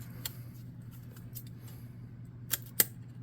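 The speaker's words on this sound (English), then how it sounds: "I need sharper scissors" A few crisp snips of scissors cutting, scattered sharp clicks over a low steady hum, with two louder snips near the end.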